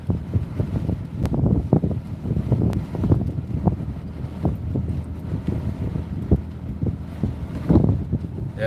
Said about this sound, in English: It's real windy.